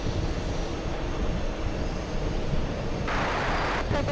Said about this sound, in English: let's go over to the 777 takeoff